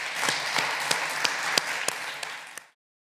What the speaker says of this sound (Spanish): por mi parte un aplauso gigante para este tío